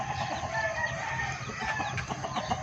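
A flock of young chicks on a farm peeps steadily, with many thin, high chirps overlapping in a continuous chorus over low background noise.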